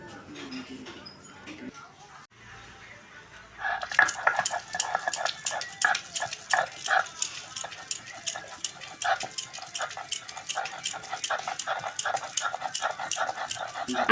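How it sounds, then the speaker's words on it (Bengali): Boiled vegetables are ground by hand on a Bengali shil-nora grinding stone: after a few quiet seconds, repeated rhythmic scraping strokes of stone on stone start up close and continue steadily. "এবারে শিলনোড়াতে বেটে নেব"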